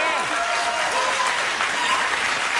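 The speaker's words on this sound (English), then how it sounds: "Listen to that. Roaring applause." Roaring applause from a television studio audience during a late-night comedy show, a dense, steady wash of clapping that fills the whole moment without a break.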